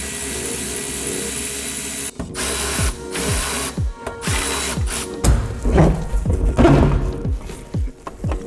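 A Milwaukee power tool unbolts the seats of a 1965 Mustang, its motor whirring in short repeated bursts with ratcheting pauses between, loud and close, with no talking.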